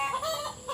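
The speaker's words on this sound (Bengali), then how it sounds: "আমার মুরগিগুলো আওয়াজ দিচ্ছে, কর কর করছে" Chickens cluck nearby in a short burst of quick, nasal calls, heard alone.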